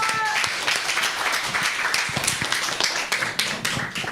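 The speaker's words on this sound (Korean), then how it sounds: "우리 김영식 교수님 박수로 모시겠습니다." An audience at a church's tenth-anniversary thanksgiving service applauds to welcome a lecturer, a steady mass of overlapping claps at moderate loudness with a brief tonal sound at the start.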